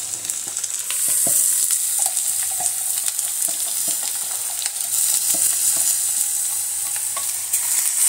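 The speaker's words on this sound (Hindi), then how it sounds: "और अब इस भिंडी के साथ ये जो प्याज लहसुन है ये भून भून लेने बेसिकली" Okra frying in a pan with finely chopped onion and garlic over low gas, giving a steady close sizzle broken by scraping stir strokes and light utensil taps, with no talking.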